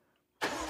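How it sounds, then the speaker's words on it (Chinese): A BMW M5 CS engine still warming up roars to life after a short near-silent pause, a loud sustained revving blast that holds steady to the end. "但是最嗨的，我觉得还是在它的引擎声浪"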